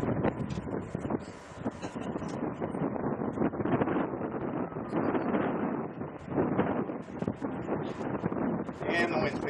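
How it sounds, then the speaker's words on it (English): Outdoor wind gusts buffet the microphone at a shooting range, a continuous, loud rumbling roar that swells and eases without any clear break for the whole stretch. "and the wind's picking back up."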